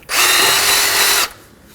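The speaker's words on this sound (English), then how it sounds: "Using a bore brush and a drill, we're going to clean the inside of the sensor hole" A power drill spins a bore brush inside a sensor hole on a 2020-2027 Toyota Corolla front axle area, one steady loud whir lasting about a second before cutting off.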